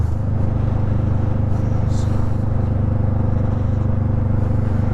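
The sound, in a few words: motorcycle riding in traffic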